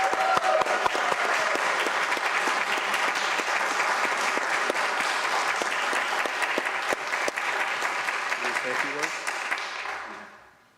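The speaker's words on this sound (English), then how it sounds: "a round of applause" A city council meeting audience gives sustained, dense applause for about ten seconds, the clapping holding steady before tapering off and fading out.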